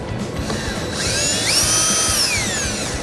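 An impact or power driver fitted with an 8mm socket runs against screws while trailer wiring goes into a 2016 Ford Escape, giving a sustained close, loud whirring and ratcheting with rising and falling pitch.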